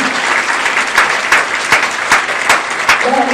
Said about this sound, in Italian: Un bell'applauso sarebbe gradito.